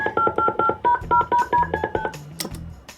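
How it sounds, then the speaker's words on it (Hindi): Someone dials a phone number, producing a quick run of about a dozen distinct touch-tone beeps at a steady pace, loud and close, followed by faint line clicks and noise. "मैं फोन मिलाया तो आप उससे बात करना"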